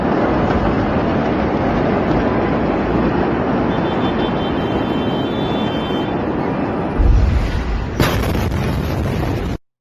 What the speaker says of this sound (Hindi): ये था इस घटना से जुड़ा हुआ वो वीडियो जो ये बयां कर रहा है कि ये जो धमाका था, ये जो हादसा था, कितना भीषण और गंभीर था